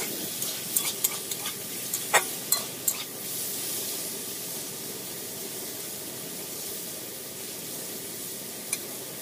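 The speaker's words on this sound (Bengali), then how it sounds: "ভাজার সময় একসাথে ভেজে নিচ্ছি যাতে তাড়াতাড়ি হয়" Soft, steady sizzle of bitter gourd and spiny gourd frying together in a pan, with a few sharp stirring clicks early on and one more near the end.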